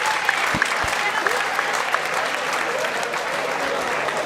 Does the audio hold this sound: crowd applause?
yes